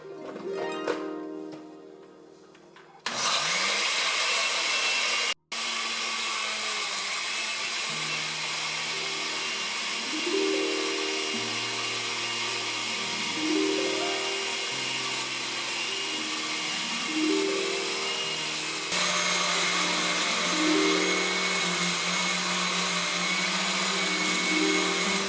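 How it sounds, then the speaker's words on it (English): A countertop blender whirring through pepper, garlic and ginger, starting with a short burst, then running loud and steady with rising and falling pitch sweeps as the motor labors and frees up. "So I'll go ahead and blend this"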